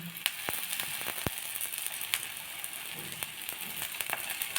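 Oil sizzling and crackling in a hot pan while cooking a semolina (rava) tiffin dish, a steady close fizz with sharp pops and a few louder spits, no talking.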